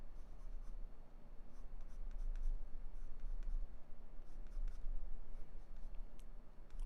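A dark pencil steadily shading on paper for a portrait drawing, a continuous close scratchy rasp with small rhythmic strokes, no talking over it.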